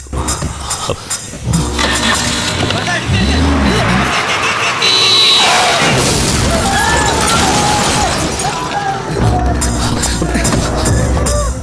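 A car approaching in a dramatic film scene, loud engine roar with skidding, tire squeal and crash-like bursts layered over tense music, building through the middle and staying loud to the end.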